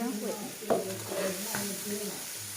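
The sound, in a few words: vegetables and eggplant being stir-fried in a pan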